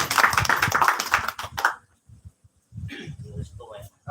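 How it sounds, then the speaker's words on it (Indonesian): A short, dense burst of audience clapping fills a launch event for an Indonesian online journalists' association in Yogyakarta, then fades as a voice begins speaking. "Ayo tepuk tangan."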